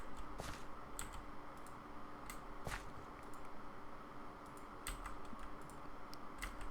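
Sharp clicks scattered irregularly over a soft background hum as bone meal is applied to plants in a Minecraft-style pumpkin farm game. Some clicks come singly, others in quick clusters, and there is no talking.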